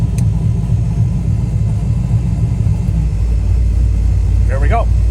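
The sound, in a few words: turbo car exhaust with cutout closed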